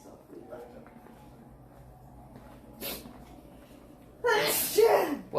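One sharp, loud sneeze bursts out near the end of a quiet indoor stretch, preceded by a faint breathy sound.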